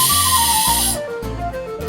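A tin whistle blown very hard to clear saliva gives a loud, breathy rushing blast for about a second. Breathier wavering whistle tones follow as the airflow eases.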